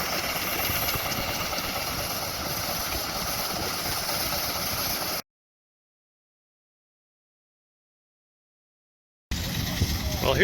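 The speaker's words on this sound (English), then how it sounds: "the threshing machine is powered by the belt" A belt-driven threshing machine runs at a threshing bee, a steady mechanical drone with engine-like rumble that continues evenly, then cuts out abruptly partway through and resumes briefly at the end.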